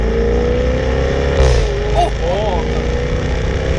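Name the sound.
V8 car engine revving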